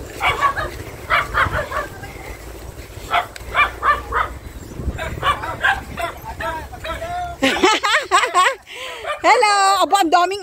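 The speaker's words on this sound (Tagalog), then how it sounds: "Hello, aba, ang daming aso." Many dogs bark at a rural spot during a vacation, repeated yips and barks mixed in with people talking nearby, with louder, higher-pitched yelping toward the end.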